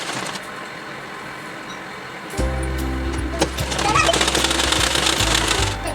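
A sewing machine stitches a blouse, starting after a quiet stretch with a close, rapid mechanical whirring and needle clatter that continues steadily to the end.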